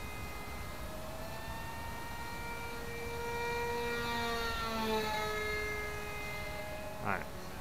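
EPP and Depron foam flying wing model at half throttle, its propeller motor whine gliding up and down in pitch as it passes at moderate distance, with a short thump near the end.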